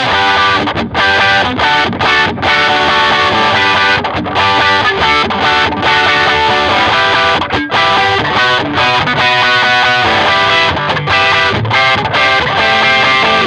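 Driven electric guitar playing a steady rhythm part from a song through effects pedals, with chugging chords and brief choppy stops, loud and continuous.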